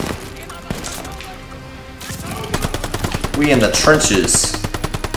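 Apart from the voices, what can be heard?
gunfire from blind firing in Call of Duty Vanguard video game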